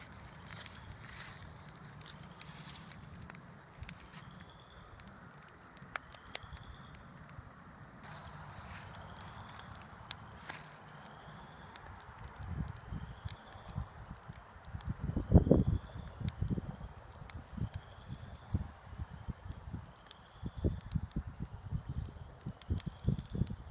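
A small outdoor bonfire of damp, moisture-laden wood crackles and pops steadily, with sharp snaps growing denser and louder in the second half over a low rumbling background.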